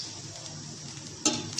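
Water poured into a pan of sizzling masala for chickpea curry gives a soft steady hiss, then a sharper crackling burst near the end, quiet and close.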